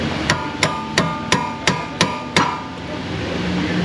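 Seven sharp, evenly spaced metallic hammer blows strike a gear wrench in an auto repair shop, loud and close with a ringing tone, then a short quiet tail.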